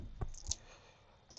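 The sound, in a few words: computer mouse click on a download link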